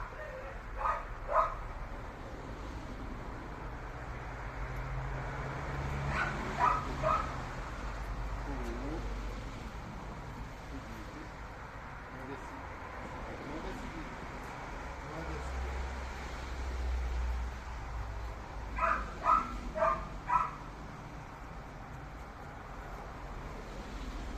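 A dog barks in a few short clustered bursts, a couple at the start, more mid-clip and again near the end, moderately close over steady low background rumble.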